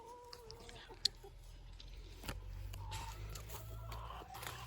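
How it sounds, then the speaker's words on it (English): Chickens clucking softly at a moderate distance, scattered calls over a low background hum, with one sharp click. "we got all of these chickens here"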